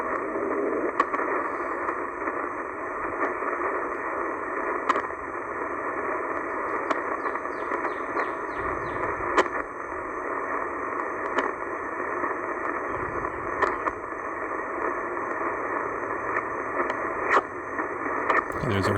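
Shortwave radio reception on PL990 and PL680 receivers outdoors in a park: a steady hiss of static carrying a continuous buzzing data signal, with faint clicks throughout.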